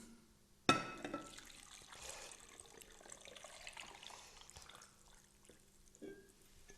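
Water pours into a fermentation jar packed with vegetables such as kale, broccoli and parsnips, starting with a sudden splash, then a soft, uneven trickle and gurgle that fades out.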